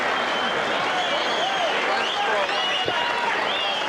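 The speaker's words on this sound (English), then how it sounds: "And the crowd shows its appreciation" A boxing arena crowd applauds and cheers at the end of a fight that went the distance, a dense, continuous wash of clapping and raised voices with a commentator speaking over it.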